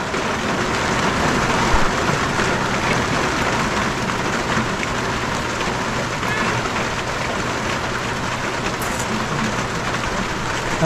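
Rain pours down outdoors as a dense, constant hiss that stays fairly even and loud throughout, with no clear voices over it.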